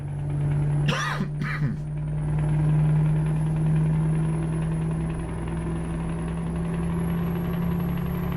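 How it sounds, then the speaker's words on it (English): A heavy truck engine in Euro Truck Simulator 2 drones steadily at a low, even idle-like rumble with a constant hum, and two brief whooshing bursts pass near the start. "That engine sounds so nice."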